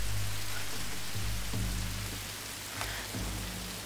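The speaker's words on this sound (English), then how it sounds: "Cold rain." Steady rain falls in the video game Tomb Raider, a soft even hiss of cold rain on surfaces, continuous and moderately quiet with no voices over it.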